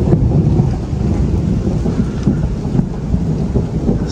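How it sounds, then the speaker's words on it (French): Deep thunder rumbles continuously through an evening storm, loud and enveloping, with steady rain hissing beneath it and no voices. "Ce soir, c'est orage annoncé. Donc là, il commence à tomber quelques gouttes."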